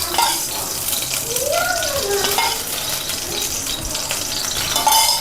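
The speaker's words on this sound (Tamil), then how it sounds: "இப்போ எண்ணெய் ஊற்றிக்கலாம் தாளிக்கிறதுக்கு." Oil heating in a pan for tempering spices gives a steady, close crackling hiss that runs throughout, with a few clinks and stirring sounds and brief voice-like tones in the middle.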